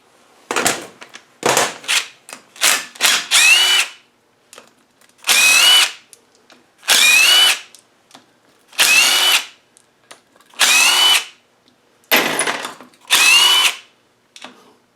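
A power tool, likely an impact driver, spins out bolts from an LT230 transfer case bottom cover, a series of about a dozen loud, short whirring bursts separated by brief pauses.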